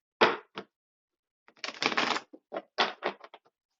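Short bursts of rapid flapping and riffling as a deck of playing cards is shuffled, in quick clustered bursts separated by brief pauses.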